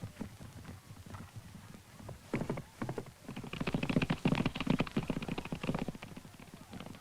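Horses gallop in a race in Dolpo with several riders, hooves drumming in rapid clip-clop beats that grow louder toward the middle, with a faint murmur of voices beneath.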